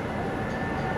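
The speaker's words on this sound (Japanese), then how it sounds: "まもなく3番線を列車が通過いたします。" A steady, dense rumble of an EH500-hauled freight train passing through Kuki Station, loud and continuous for the whole moment with no voices.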